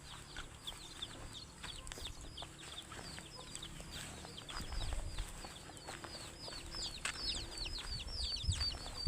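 A chicken clucks in short, repeated bursts with some wing flapping, fairly faint and close, over low background rumble.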